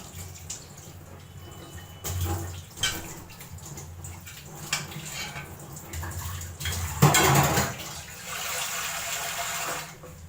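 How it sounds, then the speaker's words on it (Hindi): Water splashes and pours into a cooking pot of marinated meat for aloo gosht in a few bursts, with a louder gush near the end, close by and otherwise quiet. "मैं पानी डाल देती हूँ इसलिए"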